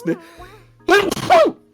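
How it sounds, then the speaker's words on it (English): A single sharp human sneeze bursts out loudly and close, with a short breathy intake leading into the forceful explosive release, indoors during a casual chat. "I just sneezed my entire brain out temporarily."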